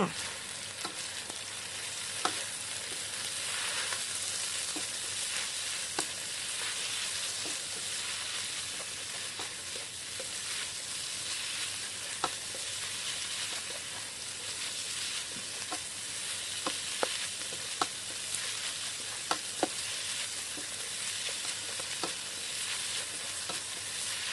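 Pork stomach stir-fries with chili and basil in a hot pan, producing a dense, continuous loud sizzle with scattered scraping clicks of a spatula throughout, close and alone without speech.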